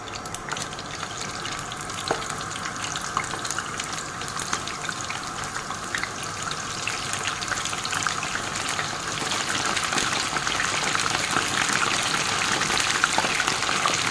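Samosas fry in hot oil with a dense, continuous sizzle and bubbling, close up and steady, with scattered sharp pops and crackles rising slightly in intensity over fourteen seconds.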